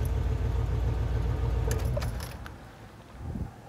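A 1981 Turbo Trans Am engine idles with a steady low rumble close by, then the sound drops away briefly before a small rise, with a few light metallic clinks mixed in.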